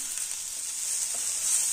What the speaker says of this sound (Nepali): मजाले फ्राई गर्नुपर्छ एकछिन मसालालाई।